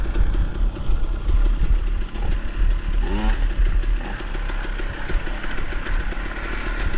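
A motorcycle engine chugs steadily at low revs while riding along a wooded trail during a 2022 Upper Cumberland Fall Classic trail ride, loud and close, with a continuous rumbling drone and rattling clatter throughout.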